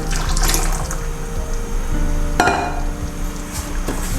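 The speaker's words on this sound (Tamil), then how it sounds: "இப்போ இதில் புளி தண்ணி ஊற்றிடலாம்." Tamarind water is poured into a pot of boiling kollu (horse gram) kuzhambu, giving a continuous watery rush and bubbling sizzle with a sharp clatter midway, steady and close.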